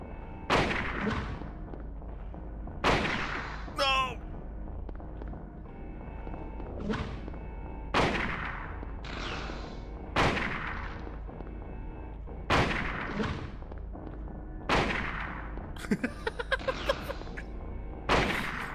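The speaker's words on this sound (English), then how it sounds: "let's try the rifle" Rifle shots in a video game, loud sharp booming reports fired one at a time at irregular intervals, about nine in all, with a brief burst of quicker clatter near the end.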